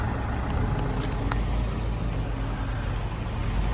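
A skidder's engine runs in the woods of Southern Illinois while it works to pull a stuck tractor free, a steady, low rumbling drone that stays fairly faint and constant with no talking.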